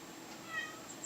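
A house cat named Casper gives a faint, short meow indoors, heard alone against quiet background hiss.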